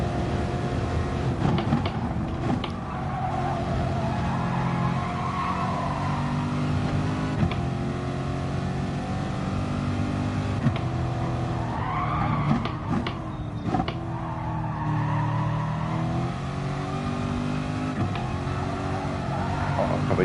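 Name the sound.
Toyota Supra race car driving in a racing video game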